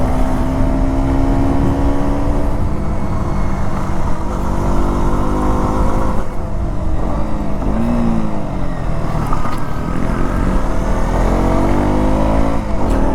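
A KTM Duke 125 motorcycle accelerates hard to overtake a car on the road, its engine revving loudly and steadily with rising pitch sweeps throughout, heard close up with constant wind noise.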